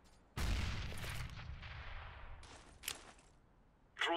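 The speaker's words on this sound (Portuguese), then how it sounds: "I'm throwing a grenade." Grenade thrown in Counter-Strike on de_mirage, a sudden loud blast with a rumbling tail that decays over a couple of seconds, followed by fainter in-game impacts and a brief voice at the end.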